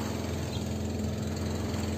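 Two boat engines running on a fishing banca, a steady loud motor drone with a constant low rumble and no break, close to the microphone and with no voices.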